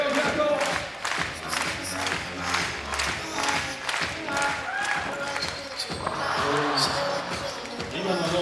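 Crowd at a 3x3 World Tour basketball dunk contest in Utsunomiya, a continuous roar of cheering and rhythmic clapping with ball bounces, while a commentator talks over it.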